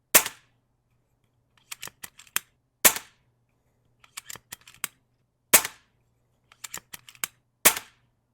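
An AGT Vixen air rifle fired at a paper target, about five sharp, crisp cracks spaced a few seconds apart, each followed by quieter clicks and clatter of the action being cycled, close and otherwise quiet.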